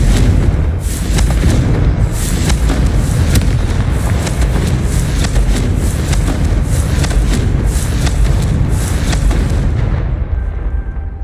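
Confringo spell blasts in Hogwarts Legacy make a loud, dense, unbroken roar of booming explosions with rapid repeated impacts that continues for about eleven seconds before easing off at the end.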